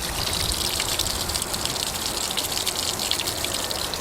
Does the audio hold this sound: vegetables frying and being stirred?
no